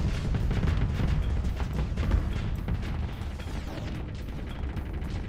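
Torpedoes explode during a Starsector space battle, a dense, continuous rumble of booms and blasts with heavy low-end weight that stays loud and busy throughout.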